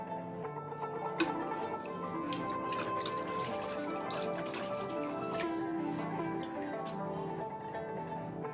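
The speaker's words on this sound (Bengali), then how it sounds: "তারপর জল দিয়ে দেবো।" Water poured into a newly planted aquarium, with close, steady splashing and trickling broken by a few sharper drips, with no talking.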